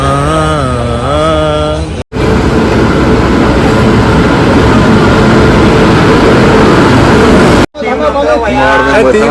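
A Delhi Metro train arrives at a station with a loud, sustained rumbling roar that lasts several seconds. Casual singing and talking can be heard just before and after it.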